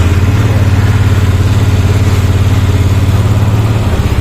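A Yamaha NMAX V1 scooter engine idles steadily up close, a loud, even, pulsing putter that holds constant throughout.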